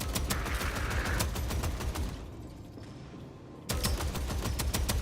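Rapid automatic gunfire from a weapon in the shooter game Deadzone: Rogue, loud dense bursts for about two seconds, a brief pause with quieter clatter, then another sustained burst resuming near the end.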